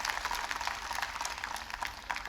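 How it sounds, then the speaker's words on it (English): A university convocation audience at IIMB claps in a faint, dense, even patter of many hands, heard from a distance without speech. "Can we give a round of applause for all these achievements by the doctoral students?"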